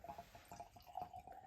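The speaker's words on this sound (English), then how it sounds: "I'm pouring way more than I need to, but I'm excited to try this one." Maker's Mark Kentucky straight bourbon poured into a new tasting glass: a faint, close trickle of liquid with light dripping splashes, quiet and alone in the room.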